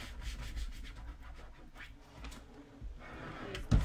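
Vinyl decal on a camping bucket rubbed with a scraper, giving soft, quiet scraping and rubbing strokes up close, ending with a brief louder knock.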